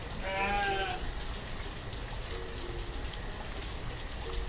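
A single sheep bleats in the video game Banished, a wavering cry near the start standing out against steady game ambience resembling rain or wind that continues alone afterward.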